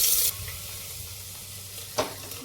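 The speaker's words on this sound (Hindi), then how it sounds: "खिचड़ी में मैंने हींग, जीरा, राई और लहसुन का तड़का दिया है।" Steady hissing sizzle of asafoetida, cumin, mustard seeds and garlic frying in hot oil for khichdi, with a brief stir or clatter near the end, close and fairly quiet.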